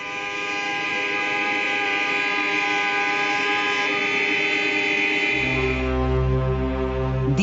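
Car horns blare together in a protest in West Berlin, a long sustained chorus of honking that a deeper horn joins near the end.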